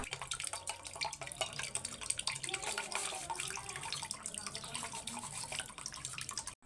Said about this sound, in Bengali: এখন বাবা এখানে নারকেলের জলটা বের করে নিচ্ছে